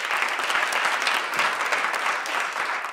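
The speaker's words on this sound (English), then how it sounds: "Please give him a big round of applause" Applause from a crowd greeting a sixth-grade storyteller at an event, a dense, steady patter of many hands clapping at close range throughout.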